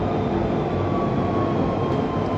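A train on the Central line rumbles steadily in a depot, a continuous broadband roar with faint tonal whine and no talk.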